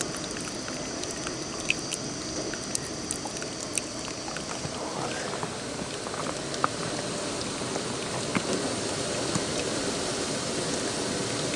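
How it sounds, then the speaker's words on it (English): Maple sap boils hard in an evaporator during syrup making, giving a steady bubbling, crackling roil with small scattered pops throughout, close and continuous with no talking. "Never dropped my boil on nothing. So it's evaporating off pretty darn quick."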